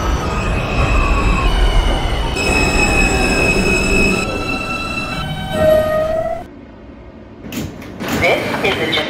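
An R160B Alstom E express subway train in the OpenBVE simulator, running loud with rumbling wheels and squealing rails, whining motor tones rising and falling, and a door-closing chime near the end.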